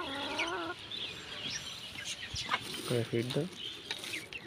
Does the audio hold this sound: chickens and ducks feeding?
yes